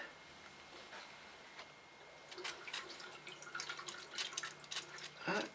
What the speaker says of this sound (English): Got a little bit of water coming through.